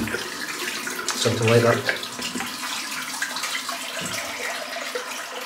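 A razor rinsed under a running bathroom tap, steady splashing water with a brief louder gush, while someone talks quietly over it.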